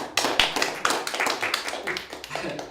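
Studio audience at a panel game show cheers and applauds as four players are welcomed, a dense burst of clapping that starts abruptly and carries on steadily.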